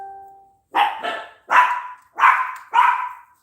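Chihuahuas bark in five sharp, loud yaps in quick succession, close by, set off just after a brief electronic phone ding.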